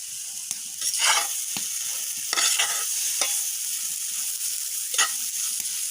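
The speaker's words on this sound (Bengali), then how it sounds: "তেলের গুঁড়িগুলা একটু ভাজা ভাজা হতে থাক" Mustard oil cake frying with greens in a pan, a steady sizzle broken by repeated scraping strokes of a spatula as it is stirred, close and without talk.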